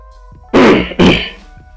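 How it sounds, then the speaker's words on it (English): Two quick, harsh coughs in close succession from a person near the microphone, with quiet in between. "Sorry for my cough."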